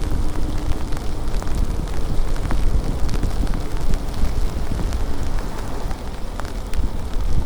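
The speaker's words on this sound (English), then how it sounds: "we're getting a pretty good rain right now. It's been raining all day here" Steady rain falls outdoors in Oregon with gusting wind, a dense constant hiss and patter with low wind rumble buffeting the microphone throughout.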